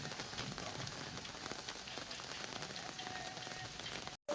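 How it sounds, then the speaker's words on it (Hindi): Steady rain falls across the courtyard of an ancient Shiva temple in Vietnam, a dense, even patter of drops on stone and surfaces that continues unbroken, with no voices. "और बारिश अब भी चालू है"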